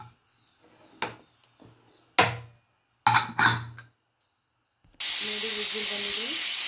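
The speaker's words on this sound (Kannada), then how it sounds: "ನೋಡಿ, ವಿಸಿಲ್ ಬಂದಿದೆ." A pressure cooker cooking rice with water and salt lets out a loud, steady steam-whistle hiss that starts abruptly and holds to the end, after several short clatters and bumps.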